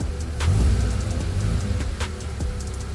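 A car engine idles too high, around 1500 rpm instead of 1000, with a steady low rumble close by and slight rises in pitch. It runs alone without any talk.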